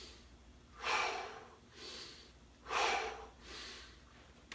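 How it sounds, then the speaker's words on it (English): During a seated stretch at an office, slow breaths are drawn in and pushed out in a steady rhythm, two full cycles, close to the microphone with no talking. "and then breathing in."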